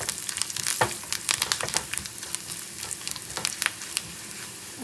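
Fish curry simmering and sizzling in a pan just after chili powder is stirred in, a raw-mango Angamaly-style curry, giving steady close crackle with repeated bright spattering bursts and no talking.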